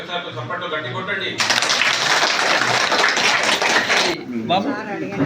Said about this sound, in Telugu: చప్పట్లు గట్టి కొట్టండి